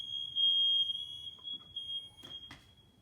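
Steady high electronic buzz from an interconnected ionization smoke alarm, loud at first and continuing throughout, with a couple of brief clicks and knocks near the end.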